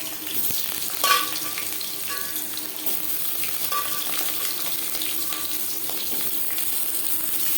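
Peeled potato pieces fry in hot oil with Bengali five-spice and bay leaf, a loud, continuous sizzle that starts with a sharp burst as they go in, followed by occasional stirring clinks and no talking.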